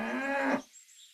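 A cow moos once with a sustained, droning low call in the video game Winds of Valen, loud and close, cutting off abruptly into near silence.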